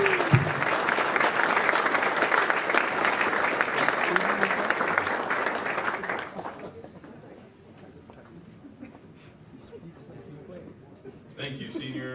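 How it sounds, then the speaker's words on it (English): Graduation audience at an Air Force base ceremony bursts into sustained, dense applause that fills the hall for about six seconds, then fades to scattered claps and room murmur before a brief swell near the end. "dramatic applause"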